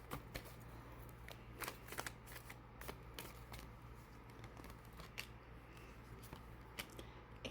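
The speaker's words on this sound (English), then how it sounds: "I still wanted to give it a little bit more of a shuffle" Tarot cards are shuffled close up in a quiet room, giving a run of soft riffling and sharp card snaps in irregular bursts, with no talking.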